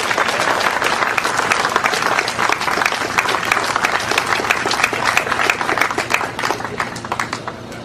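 A crowd applauds a speaker being introduced at a Tea Party political gathering, loud sustained clapping with distinct individual claps standing out, continuing strongly for the whole stretch.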